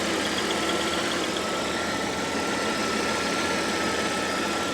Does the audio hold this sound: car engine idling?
yes